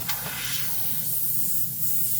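An Iwata airbrush driven by a small 2-gallon air compressor sprays acetone, giving a steady, close airy hiss that runs unbroken the whole time.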